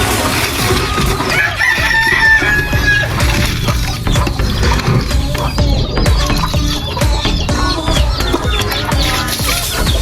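A crowded flock of chickens clucks and squawks continuously up close, with a rooster's crow rising briefly above the busy, noisy din.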